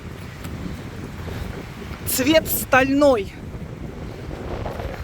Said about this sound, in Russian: Сейчас меня будет плохо слышно из-за ветра.